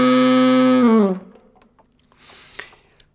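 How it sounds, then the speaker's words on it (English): A saxophone holds one growled note, buzzy from humming in the throat while playing, then slides down and stops, leaving quiet room noise. "The saxophone growl then sounds a bit like this."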